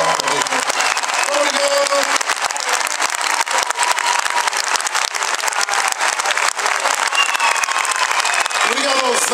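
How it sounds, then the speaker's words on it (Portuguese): A concert crowd at the Multiusos arena in Guimarães gives a loud, sustained round of applause and cheering, dense and steady throughout, with a few shouts rising over the clapping. "te desse uma enorme salva de palmas"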